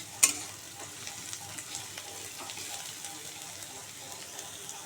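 Garlic fries in oil in a pan for a fish curry, giving a faint, even sizzle broken by light stirring scrapes and an early clink.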